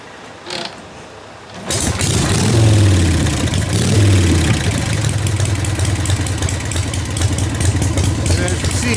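A 1947 Harley-Davidson Knucklehead bobber engine kicked over a few times, then catching and settling into a loud, steady, lumpy idle close by, with a short rev partway through.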